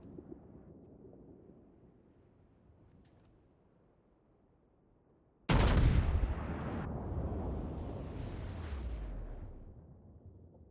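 Scharnhorst battleship guns fire high explosive shells in World of Warships, a single huge booming salvo erupting after quiet background rumble, followed by a long rolling roar and whistling shell flight that slowly fades.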